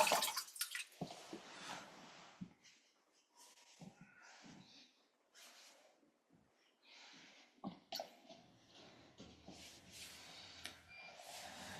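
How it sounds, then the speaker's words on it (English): Water poured from a jug over bare feet after a foot soak, heard as faint, intermittent splashes and drips in a quiet room, with an occasional cough or throat-clearing nearby. "let's take the jug and just rinse off our feet, and then dry it with the towel or kitchen towel you have"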